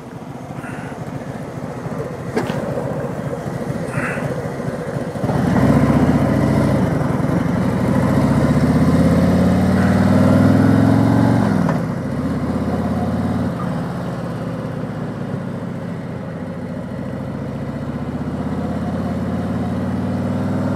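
A 2020 Harley-Davidson Electra Glide rides on country roads with a steady, rumbling engine drone throughout, swelling louder in the middle as it pulls harder, along with wind noise.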